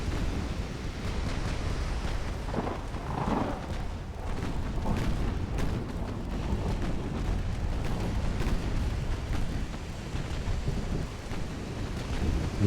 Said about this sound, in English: Torpedo going in.